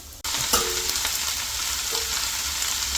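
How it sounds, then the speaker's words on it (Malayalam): Moringa leaves tossed into a pan of well-browned sautéed onions, a loud continuous sizzle and frying hiss kicking in after a brief pause, with scraping stirs of a spoon through the leaves. "ഇനി നമുക്കിതിലേക്ക് ഈ മുരിങ്ങയില ചേർത്ത് കൊടുക്കാം."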